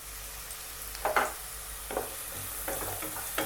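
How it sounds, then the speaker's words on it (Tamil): Chopped onions and curry leaves sizzle steadily in hot oil in a pan, a constant close frying hiss with a few soft stirring scrapes on top. "வெங்காயம் நல்லா வதங்கட்டும்."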